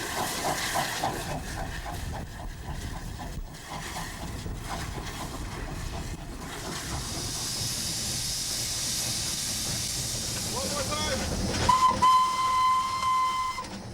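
Steam locomotive on the East Somerset Railway, a preserved heritage line in the Somerset countryside, with a long hissing rush of steam building over rumbling running noise and a sharp, steady whistle blast near the end.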